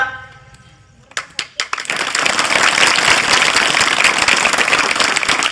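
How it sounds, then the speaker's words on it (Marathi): Audience clapping at a speech on Shivaji Maharaj's life, starting with a few scattered claps after a brief quiet moment, then swelling into loud, sustained applause from a large crowd. "टाळ्या वाजवायच्यात कशा?"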